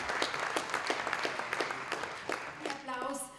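An audience at an award ceremony for sports achievement gives steady applause, dense clapping that continues evenly throughout at moderate distance.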